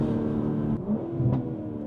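A BMW M440i xDrive accelerating hard, its engine rumbling steadily at close range, with a brief exhaust pop partway through.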